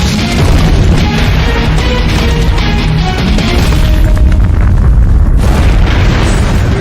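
Fiery explosions fueled by toxic chemicals, a loud, sustained roar of booming blasts and crackling fire that fills the whole span, dense and rumbling with no break and no speech.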